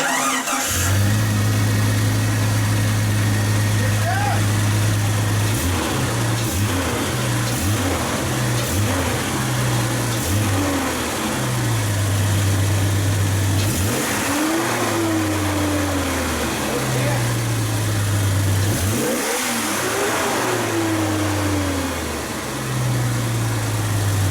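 A 1999 Jeep Cherokee with a swapped engine idles steadily, then revs up sharply in repeated bursts that climb and fall back, loud and close throughout, with no talking.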